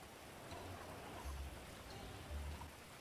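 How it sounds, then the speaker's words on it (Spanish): Rain falls outdoors in a faint, steady hiss of drops, with a low rumble swelling a few times underneath and no voices. "La tengo que regar y está lloviendo"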